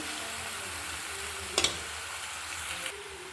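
Boiled pasta being stirred and fried in a pan, with a steady soft sizzle running throughout and a short clatter of the utensil against the pan midway.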